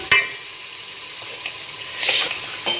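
Crushed roasted cumin stirred into a sizzling pan of mixed vegetables (potato, peas, carrot and fenugreek): a steady soft frying hiss with a sharp scrape at the start and a brief louder sizzle surge as the spoon turns the mix.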